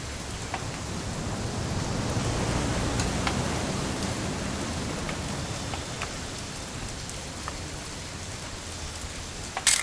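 Steady rain pours on surfaces in What Remains of Edith Finch, a dense, even hiss with scattered individual drops ticking through it, continuous and moderately loud.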